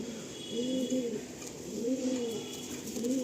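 Pigeons coo in a racing pigeon loft, a few soft rolling calls repeating at an even pace, fairly close and clear over a quiet background.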